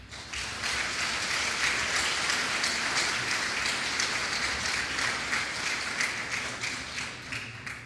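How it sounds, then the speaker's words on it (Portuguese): Loud, sustained applause from a large audience at the opening session of an internal medicine congress, dense steady clapping with no speech over it. "Eu peço para a medicina interna uma grande salva de palmas."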